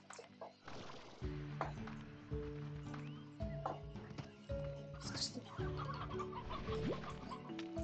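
Chickens cluck repeatedly in the farming game Slime Rancher, short bursts scattered over a steady bed of game music and ambient effects, moderately loud throughout.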